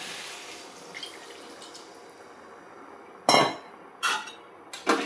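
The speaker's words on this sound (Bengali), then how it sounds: "এবার দিয়ে দেব জল।" Water poured into a pot of frying potato and pointed gourd curry for a shrimp and gourd dish, heard as three short, bright splashing bursts close by after a quiet stretch.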